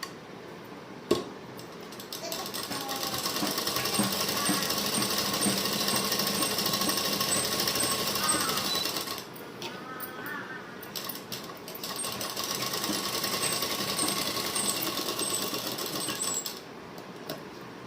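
A sewing machine stitches trouser fabric with a pocket, running in two long, close, steady bursts of rapid mechanical chatter separated by a brief pause, with no talking.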